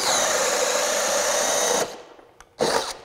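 Craftsman V20 brushless 1/2-inch hammer drill driver on a 6Ah battery, a loud, steady high-pitched motor whine that cuts off, then a brief second spin-up near the end, with no talking.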